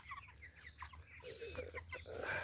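Chickens clucking inside a chicken tractor, a string of soft close clucks and short calls at moderate level, no talking.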